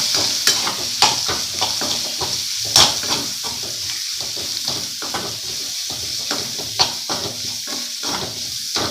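Long, thin slices of onion fry in a pan with a constant hissing sizzle, broken up by frequent stirring and scraping of a spoon, heard up close.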